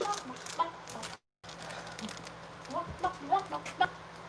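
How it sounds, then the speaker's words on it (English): Chicken clucking at a live haunt show, a few short clucks close by and moderately loud, with brief chirping calls toward the end against a busy background and a short dropout in the middle. "What's wrong with this chicken?"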